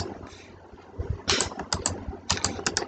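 Keystrokes on a computer keyboard entering AutoCAD shortcut commands, a brief quiet stretch then bursts of rapid, close clicky taps in short clusters, no voices.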